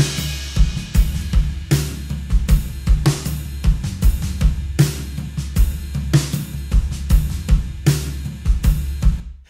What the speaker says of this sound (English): This is without any plugin on the drums bus.